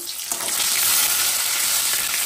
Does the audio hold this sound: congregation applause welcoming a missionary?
no